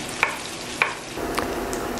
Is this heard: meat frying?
yes